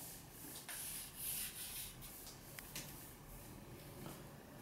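A bamboo stick is rubbed back and forth over a person's body in a sawing massage stroke, making a soft, continuous scraping rub at low volume with no talking.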